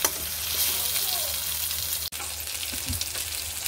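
Brinjal (eggplant) pieces fry in a pan, giving a steady, close sizzle that runs throughout with a brief dropout near the middle, and no one speaks.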